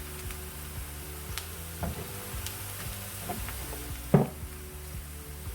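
Sliced onions sizzling and browning in a pan for masar chawal, a faint steady crackle with a few soft clicks and one brief louder knock, no voices.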